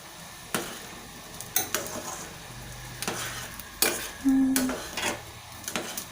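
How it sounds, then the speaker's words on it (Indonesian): Stirring a boiling broth of spices and coconut sugar in a pot for Indonesian jamu beras kencur with turmeric, giving irregular scraping knocks of a utensil over a soft bubbling sizzle. "Kita aduk."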